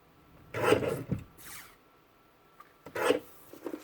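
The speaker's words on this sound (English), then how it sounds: "Now I have these 3 elements to trim." Paper card pieces being trimmed, heard as a few close, dry rasping strokes separated by short pauses, with no talking.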